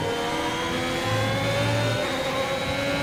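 Ferrari race car engine in a USA Grand Prix racing game, a steady high whining drone with a slight rise in pitch, loud and close, running without a break.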